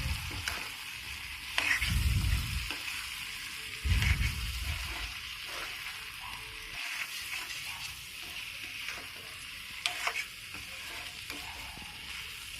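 Mushrooms stir frying in a pan, a constant close sizzle with a few low thumps and scraping stirs, steady throughout.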